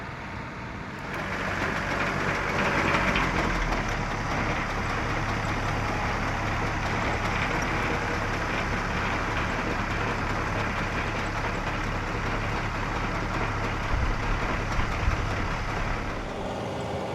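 A tractor tills turf grass. Its low, steady engine drone carries on without a break, at moderate distance with no talk.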